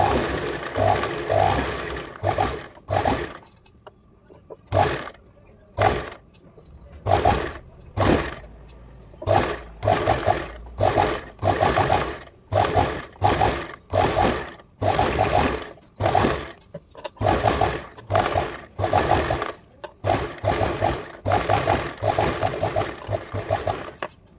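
A pico sewing machine stitches a zigzag in repeated bursts of rapid mechanical whirring, close and clear, with short pauses between runs and no talk over it.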